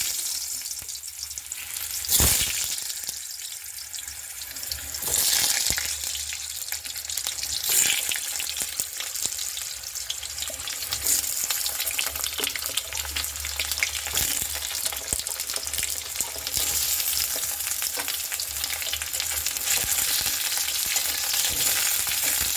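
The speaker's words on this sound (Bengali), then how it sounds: "এবার ওই তেলের মধ্যেই আমি আলুগুলোকে ফ্রাই করে নেব।" Potato pieces fry in hot oil for mutton biryani, a steady close sizzle running throughout with occasional crackles and brief bursts, no voices.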